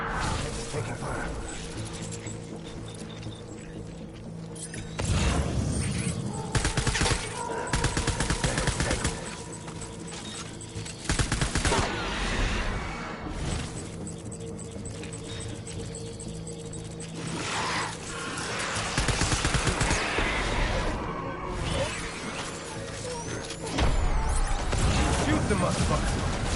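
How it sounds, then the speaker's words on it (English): Rattling bursts of gunfire in the Death Stranding video game crackle in repeated volleys over a dense bed of game noise, with people talking throughout. "Taking fire."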